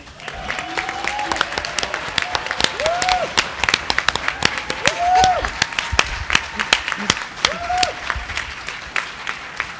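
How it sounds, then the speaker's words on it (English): A union livestream audience applauds for D. Taylor with sharp individual claps and cheers scattered through, while voices and whoops rise and fall over the clapping. "A round of applause for one of the key and dear to my heart for this union, D. Taylor."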